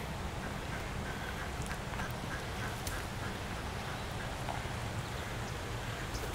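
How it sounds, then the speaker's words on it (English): Ducks quacking faintly amid a steady, noisy outdoor background, calls scattered and somewhat distant. "I found where the ducks went."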